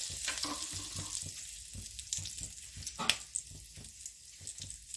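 Mustard seeds and asafoetida tempering crackle and sizzle in hot oil in a wok, a close, steady frying hiss broken by small pops and stirring scrapes.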